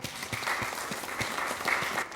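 A studio audience at an Ivorian TV quiz show claps steadily for the competing district teams, a dense, continuous round of applause that holds at an even level throughout.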